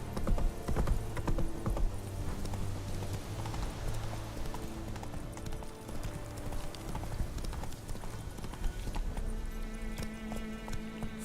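Geralt's horse Roach gallops in The Witcher 3: Wild Hunt Next-Gen Enhanced, hooves pounding in a fast, even rhythm close up, with a loud burst at the start and game music and ambience layered beneath.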